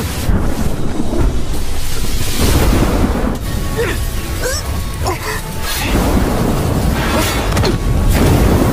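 A thunder-tribulation effect from the animated Chinese series Wan Gu Shen: loud, continuous rumbling thunder with crackling bursts and a rain-like wash, without speech.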